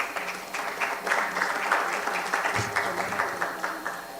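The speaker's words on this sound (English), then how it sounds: "Please keep applauding others." Steady audience applause fills a hall at a charter award ceremony, many hands clapping in a dense, continuous patter that holds at an even, moderately loud level throughout.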